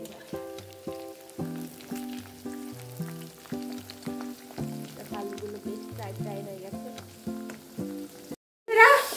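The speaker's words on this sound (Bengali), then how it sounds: "আলু ভাজা করে নিচ্ছি" Potatoes fry in a pan until golden brown, a soft continuous sizzle under louder melodic background music, with a brief gap and a sharp bump near the end.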